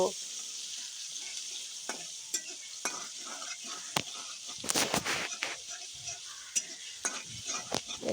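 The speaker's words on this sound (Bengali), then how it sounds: "তারপরে আমি এখানে বেটে রাখা রসুন বাটা দিয়ে দিলাম এবার ভালোভাবে নেড়ে চেড়ে মিশিয়ে নেব" Garlic paste sizzles in a pan for a pangas fish curry with radish, a steady soft frying hiss broken by scraping and clinking of a spoon as it is stirred, with quiet talk now and then.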